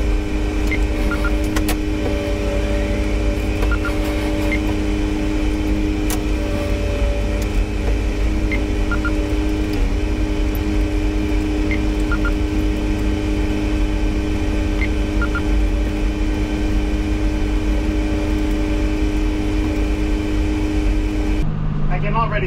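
Tractor cab interior on a slow Sunday afternoon drive through a sprayed field, a steady droning engine hum with a constant whine throughout, close and loud, with someone talking over it.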